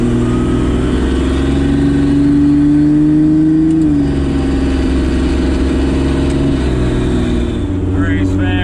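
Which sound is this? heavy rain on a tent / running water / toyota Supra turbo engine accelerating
toyota Supra turbo engine accelerating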